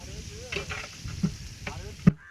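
Onions frying in oil in a big biryani pot for a large chicken batch hiss and sizzle steadily, with scattered clanks of a ladle and a sharp knock at the end before it cuts off.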